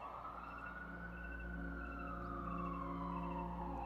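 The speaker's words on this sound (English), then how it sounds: "we get police sirens a lot in this area" Police car sirens wail outside, a sweeping tone rising and falling at a distance, heard faintly over a steady low hum.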